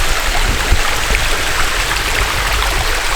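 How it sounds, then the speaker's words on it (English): A small waterfall flows steadily at the top of a set of falls at a campsite, a continuous broadband rush of water that holds at an even level throughout with no talking. "The little baby waterfall back there."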